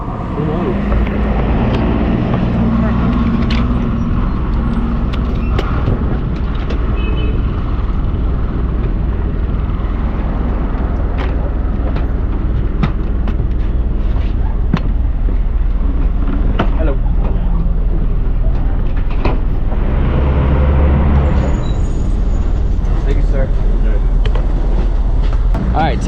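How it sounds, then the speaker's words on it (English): Interior of a Route 12 bus in Barbados, a steady heavy rumble of engine and road noise filling the whole ride, with occasional rattles and bumps and people talking over it. "Alright, 10-minute bus ride,"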